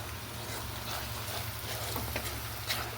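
Spice paste mixed with curd fries in a pan, a low, even sizzle with faint scraping of stirring and a steady background hum.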